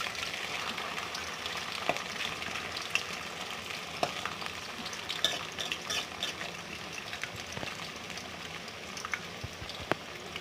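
Chips fry in hot oil until golden, giving a continuous close sizzle and bubbling with scattered sharp pops and crackles throughout.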